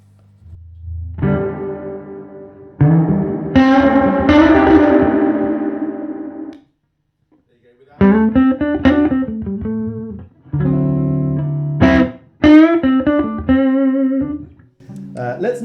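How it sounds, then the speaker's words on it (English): An electric guitar plays through a hand-wired 1964 Custom Fender Princeton amp with its reverb turned up. Chords and phrases ring out loud in separate bursts, each tail washing and decaying into the gaps between them. "Let's check out this reverb."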